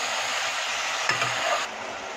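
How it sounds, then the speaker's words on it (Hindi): Garlic and ginger paste sautés in a pan for dahi gosht, a loud continuous close sizzle with a brief stirring scrape midway before the frying noise eases slightly. "तो बस अभी इसे हम भुनेंगे अच्छे तरीके से"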